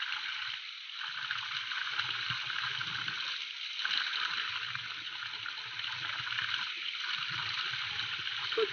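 Cold mountain water rushes steadily along the trail near Phajoding monastery, a continuous close hiss of flowing stream with faint low rumbles beneath and no voices over it.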